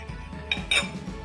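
A butter knife cuts a microwaved quesadilla into triangles on a plate, giving two quick faint metallic clinks against the plate over soft background hum.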